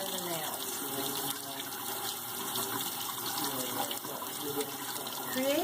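Water runs steadily from a tap during handwashing, a continuous close splashing rush that stays even throughout with slight surges near the end.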